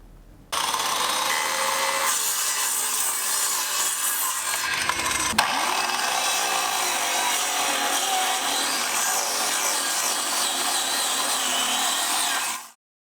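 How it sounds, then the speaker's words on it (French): A power tool works wood in a carpentry workshop in Abidjan: a router, spindle moulder or drill runs as a continuous loud, bright rasping whine for about twelve seconds, with one brief change in load midway and no talk. "Une toupie, une perceuse et une défonceuse sont entre autres les nouveaux outils de pointe des menuisiers."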